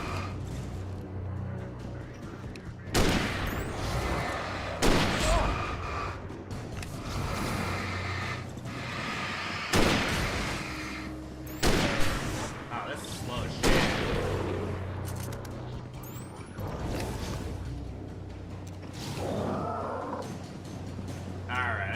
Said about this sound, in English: the hunting rifle, goddammit.